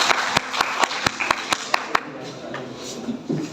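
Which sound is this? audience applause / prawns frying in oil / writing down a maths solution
audience applause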